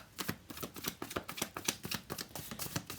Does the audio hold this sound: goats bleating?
no